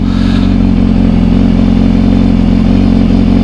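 A BMW S1000RR sport motorcycle engine running steadily at idle, loud and close, with an even, throbbing drone and no gaps.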